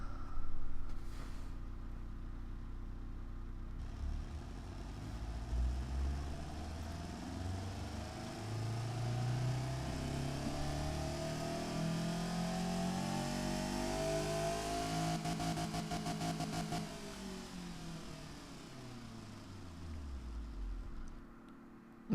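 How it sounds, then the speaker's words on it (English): Simulated car engine fitted with a resonator and a rear muffler in the game Automation, revving steadily up through the range and easing back down over about twenty seconds, with no talking. "Okay, let's see what this engine produces."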